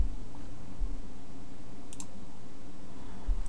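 A computer mouse clicks on the Next button of a MySQL installer, two quick, faint clicks close together midway through, set against a low steady hum with no talking.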